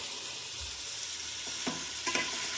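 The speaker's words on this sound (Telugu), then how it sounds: "1 స్పూన్ అల్లం వెల్లుల్లిపాయ పేస్ట్ కూడా వేసి బాగా కలుపుకోవాలి" Spices and ginger-garlic paste are stirred into a sizzling bottle gourd curry in a pan, with a steady frying hiss and a few soft spoon scrapes near the end, close by and without speech.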